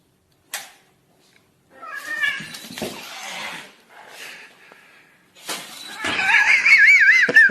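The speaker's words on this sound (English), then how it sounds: "The cat." A cat meows in short bursts, loud and close, separated by quiet gaps, with a longer wavering cry toward the end.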